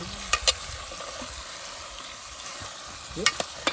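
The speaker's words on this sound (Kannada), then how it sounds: "ಫಸ್ಟ್ ಇದು ಫ್ರೈ ಆಗುತ್ತೆ" Food fries in a pan over an outdoor fire by a lake, a steady soft sizzle with a few sharp crackles and scrapes near the start and end.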